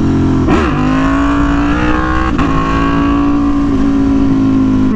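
An Aprilia Tuono V4 1100 Factory motorcycle pulls hard in first gear, its V4 engine snarling loud and close with a steady rising drone broken by brief shifts in pitch, no talk over it.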